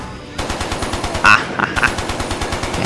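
Turret machine gun firing in 007 Quantum of Solace, a loud, rapid, steady burst of evenly spaced shots running through most of the moment, with a few sharper cracks and effects layered on top.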